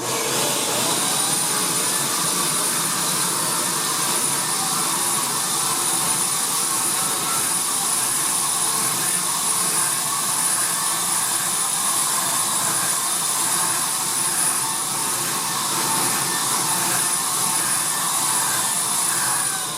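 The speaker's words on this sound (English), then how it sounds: "So here's my paint sprayer right here. This is my Wagner 150 course." A Wagner 150 paint sprayer with a larger compressor runs steadily and loudly for the whole stretch, spraying cinema screen paint onto drywall. It makes a continuous airy roar with a high whine over it, and no one speaks.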